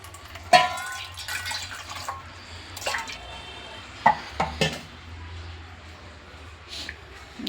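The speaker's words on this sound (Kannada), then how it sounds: "ಈಗ ಇದನ್ನು ಮೊದಲಿಗೆ ಹಿಟ್ಟು ಕಲಸ್ಕೊಂಬಿಡೋಣ ಬನ್ನಿ ಸ್ವಲ್ಪ ನೀರು ಹಾಕ್ಕೊಂಡು" Batter for raw banana kebab is mixed with water in a bowl: scattered utensil clinks, wet stirring and a few sharp knocks, close by and intermittent against a quiet background.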